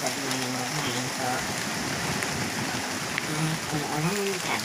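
Steady rain falling in Boracay, a dense, even hiss of drops on surfaces that continues throughout, with voices talking quietly beneath it.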